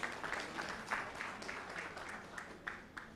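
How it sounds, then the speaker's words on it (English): An audience at a veterinary graduates' oath-taking and induction ceremony in Nigeria claps for an honoured guest, a sustained round of many hands with small swells, heard from a moderate distance in a large hall. "So a round of applause, please, to Dr. Bala Mohammed."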